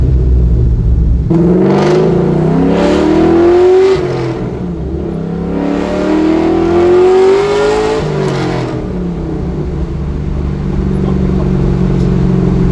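A 1969 Camaro with an LS3 V8 accelerates hard at half throttle, its loud, close engine note rising through two gear pulls with a brief dip at the shift.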